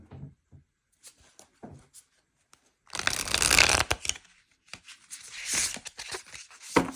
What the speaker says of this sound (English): let's shuffle these and see how they shuffle.